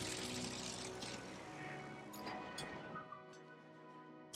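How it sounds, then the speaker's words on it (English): A heavy bomber drones over the city of Roma in Civilization VII, a dense, steady engine roar with faint crashes near the middle, thinning and fading toward the end. "Heavy bomber can continue its bombing of Roma."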